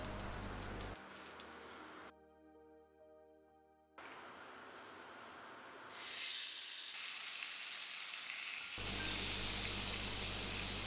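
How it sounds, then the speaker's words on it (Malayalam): Chicken for Turkish shish tavuk sizzles on an oiled grill pan over a high flame, a steady frying hiss in abruptly cut segments, fainter in the middle and louder toward the end, with no voices. "ഈ ചിക്കൻ നമുക്ക് ഗ്രില്ല് ചെയ്തെടുക്കാം."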